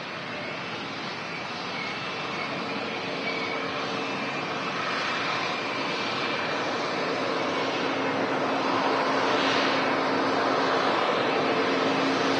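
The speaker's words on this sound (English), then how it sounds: "The Airbus A220." Jet engines of an Airbus A220 airliner at Manchester Airport in the evening, a broad steady roar that slowly builds in loudness over twelve seconds, heard from a distance with no talking.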